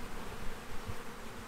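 Honey bees hum steadily inside a hive box, a dense, continuous low buzz with no voices over it.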